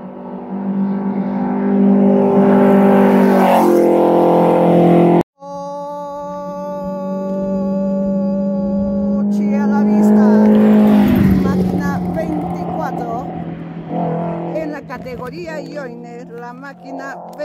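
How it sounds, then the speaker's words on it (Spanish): Rally car number 24, crewed by Edson Hancco and Olger Mamani, roars past at a stage of the 2023 Hanss Gamero rally, the engine note rising loud and close, then swelling and fading away under excited commentary. "¡Coche a la vista! Pasó el coche número 24."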